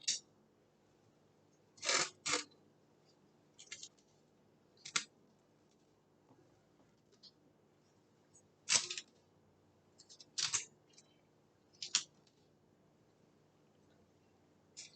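Medical tape is torn and pressed over a wound dressing in a quiet room: short, sharp ripping and crinkling bursts come at irregular intervals, close by, with near silence between them.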